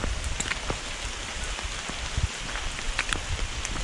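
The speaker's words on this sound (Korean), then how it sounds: "밑으로 내려오니까, 우와, 비가 장난 아니네요." Heavy rain pours down steadily outdoors in the mountains, a dense close hiss with scattered sharper drops hitting nearby surfaces, and no voices.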